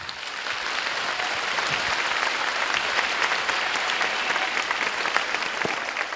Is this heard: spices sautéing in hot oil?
no